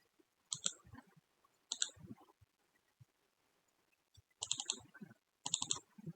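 Computer mouse clicks at a desk, heard as four separate clusters of sharp, close clicks spaced a second or so apart, with quiet gaps between them.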